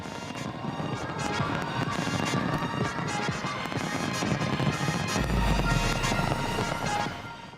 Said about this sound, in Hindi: मेलबर्न के आसमान में 7 मिनट तक आतिशबाजी ने शहर को रोशनी से भर दिया।